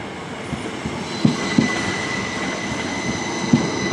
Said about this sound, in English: Very quiet electric trains.